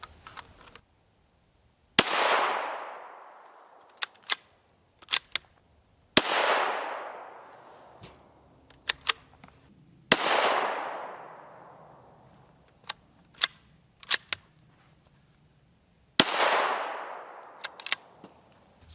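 Four loud rifle shots of 7N6 and 7N6M ammunition fired at body armor outdoors, each a sharp crack with a long decaying tail, spaced a few seconds apart, with faint clicks and handling noises in between.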